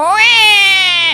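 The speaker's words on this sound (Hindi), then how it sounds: "अरे ये बच्चे की रोने की आहट कहाँ से आ रही है?" A newborn baby's single drawn-out wail, loud and close, rising in pitch and then cutting off after about a second.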